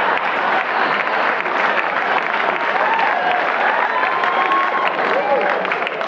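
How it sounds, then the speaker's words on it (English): A comedy club audience at a stand-up show claps hard in a steady, dense burst of applause that fills the room at full loudness, with scattered cheers and voices mixed in. "You all clap too hard for that"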